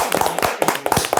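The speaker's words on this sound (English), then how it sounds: "Clap it up for Mecca, y'all." Scattered hand claps in a podcast studio, a few people clapping unevenly in close, loud bursts over a little more than a second.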